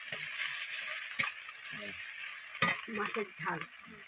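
Fish frying in a pan at home, a steady hiss and sizzle with occasional stirring and utensil scrapes, close by, with brief murmured voices in the background.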